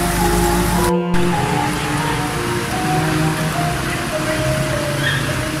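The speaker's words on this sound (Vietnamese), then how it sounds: "Rồi cơn mưa là coi như là nhấp nháy rồi." Rain pours onto a flooding street in Phan Thiet, Vietnam, a loud, dense, continuous wash with a brief dropout near the start and faint tonal hums and vehicle noise underneath.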